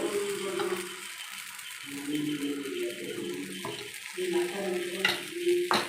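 Paniyaram batter for gunta ponganalu goes into a hot, dimpled pan, making a watery pouring, bubbling sizzle with scraping and stirring touches. The sound rises and falls over several seconds, close by.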